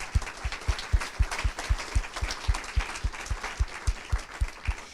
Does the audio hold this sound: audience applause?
yes